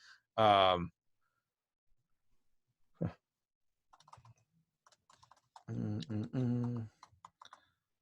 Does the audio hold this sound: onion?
no